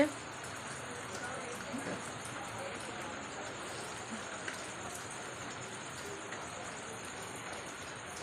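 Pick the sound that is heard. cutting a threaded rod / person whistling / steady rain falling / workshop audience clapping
steady rain falling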